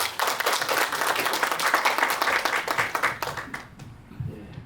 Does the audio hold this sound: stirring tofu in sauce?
no